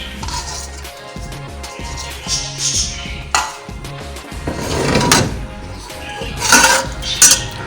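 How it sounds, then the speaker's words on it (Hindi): Finely chopped garlic going into a pan for fish curry over low heat, with clinks and clatters of utensils against metal and a soft rising sizzle, close by. "अब ये सबसे पहले मैं जो है यहाँ लहसुन डाल रही हूँ"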